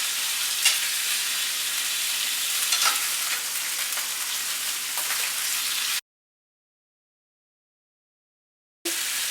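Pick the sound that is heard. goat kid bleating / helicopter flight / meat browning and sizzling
meat browning and sizzling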